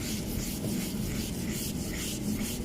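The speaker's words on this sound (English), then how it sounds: "as I am working the block" A sanding block is worked over a Mini Cooper car body panel in steady back-and-forth strokes, producing a soft, rhythmic rasping rub with nothing else heard.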